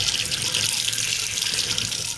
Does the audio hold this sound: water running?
yes